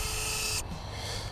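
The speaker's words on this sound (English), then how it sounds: "You can also put the landing gear up and down so the camera can be rotated 360 degrees." The motorized landing gear of a DJI Inspire 2 drone moves with a loud, high-pitched whirring servo whine that cuts off abruptly after about half a second, leaving a quieter mechanical hum.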